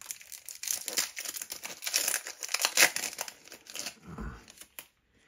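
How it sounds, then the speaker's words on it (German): Star Wars Force Attax Clone Wars booster packs being torn open by hand, a quiet run of crinkling foil and paper tearing in irregular bursts, with no talking. "Ist eigentlich schade, diese Tüten auszupacken."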